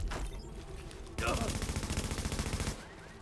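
Gunfire from a weapon in a video game rattles out as a rapid burst of repeated shots, fairly loud and close, with game sounds beneath it.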